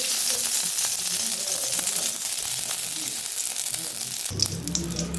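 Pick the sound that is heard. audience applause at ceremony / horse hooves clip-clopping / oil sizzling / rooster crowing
oil sizzling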